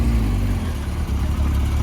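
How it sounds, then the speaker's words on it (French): A brand-new Porsche Speedster's engine runs at a supercar gathering, a steady low rumble that holds loud and continuous without clear revving peaks, with faint crowd noise in the background. "Toute nouvelle Porsche Speedster. C'est la première que je filme."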